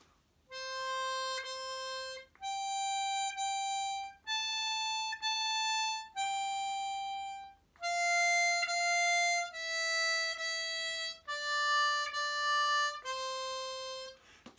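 A harmonica plays the opening two lines of Twinkle Twinkle Little Star as a series of about eight sustained, clear reedy notes, each held and separated by short breaths, alone and close.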